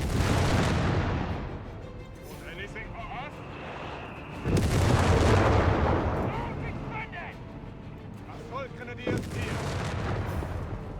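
Anti-tank guns and tank cannons fire in a Company of Heroes 3 battle, with heavy booming shots and crashing impacts at about 0, 4.5 and 9 seconds over constant battlefield din, along with scattered smaller effects.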